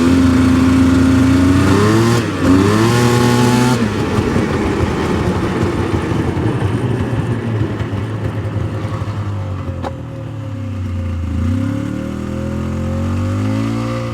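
A Yamaha Vmax 700 triple snowmobile engine misfires, not firing on all three cylinders, its loud uneven exhaust drone revving up and sagging repeatedly, with a burst of higher revs early and a dip near ten seconds before it picks up again.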